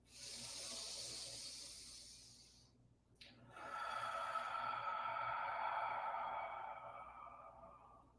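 Slow, deep breaths during a seated yoga session, each long airy inhale and exhale close and steady, with a brief quiet gap between them and no talking.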